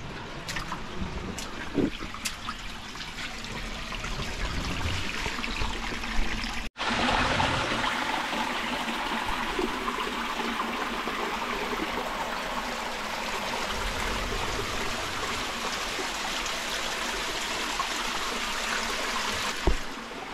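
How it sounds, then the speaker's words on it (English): A small stream trickling down a hillside near a beach in Western Australia, a steady soft rushing and burbling flow, fairly faint and continuous, heard alone. "Little stream coming out from up the hill here."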